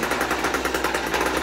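A Ryobi line trimmer's small two-stroke engine runs steadily just after a cold start, still on choke, giving a loud, continuous buzzing rattle with rapid, even pulsing throughout.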